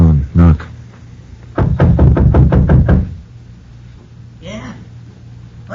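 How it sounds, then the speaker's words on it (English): A fist raps a shack door in a quick run of about eight loud hollow knocks, preceded by a couple of softer taps, in an old radio drama. "Go on, knock."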